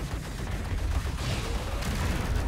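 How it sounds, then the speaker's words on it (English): Rapid cannon fire in the arcade twin-stick shooter Assault Android Cactus, a dense continuous barrage of blasts and explosions filling the whole moment with no let-up. "I'm actually gonna do some early cannon shots here."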